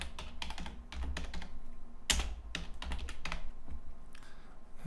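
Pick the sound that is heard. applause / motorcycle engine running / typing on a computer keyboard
typing on a computer keyboard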